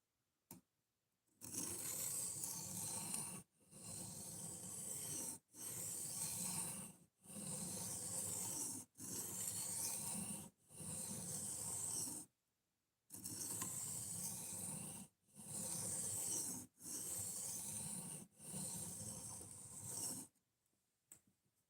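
An S35VN steel knife blade is sharpened on a stone, about nine even strokes of steady scraping, each a couple of seconds long and separated by short pauses, close and fairly quiet.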